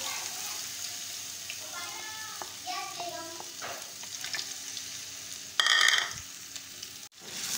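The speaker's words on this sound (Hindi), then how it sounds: "इसमें ये जो मैंने आलू काट के रखे हुए थे, पहले मैं सबसे इनको फ्राई करूँगी।" Cut potatoes sizzle steadily in hot oil in a home kitchen pan, a soft continuous frying hiss with occasional stirring scrapes and a brief louder burst of spattering near the end.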